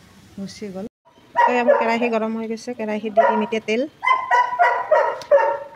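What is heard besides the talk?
dog barking at home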